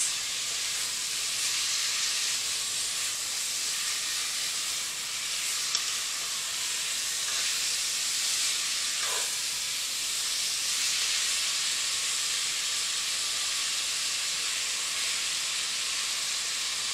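Ground beef sizzling steadily in a pot while being broken up for one-pot gluten-free hamburger macaroni, a continuous close hiss with no talk.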